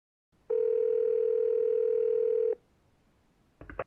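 A phone-call sound effect: a steady, loud telephone dial tone holds for about two seconds and cuts off abruptly, followed by a brief soft clatter near the end.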